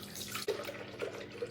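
Soy milk pours into a pan for a vegan cheese sauce, a short, quiet liquid trickle and splash heard up close with no voices.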